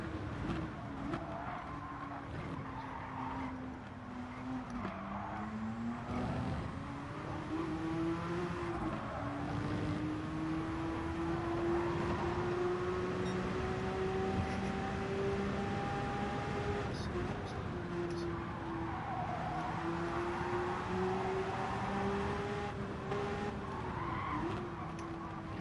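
A Gr.1 Group C race car in Gran Turismo 7 during a 90-minute endurance race, its engine droning and rising through gear changes, with tire squeal, and a voice talking over it.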